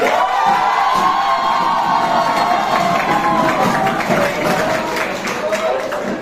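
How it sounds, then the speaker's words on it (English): An audience at a school inter-section debate contest claps and cheers steadily for the runners-up, a dense, loud crowd roar with clapping and shouts running throughout. "Claps and cheers for the runners-up."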